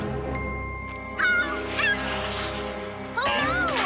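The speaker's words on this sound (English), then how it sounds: "The seagull is back." A cartoon seagull gives several squawking, honking calls over a sustained musical background, in short bursts spaced about a second apart, with the last cry rising and falling in pitch.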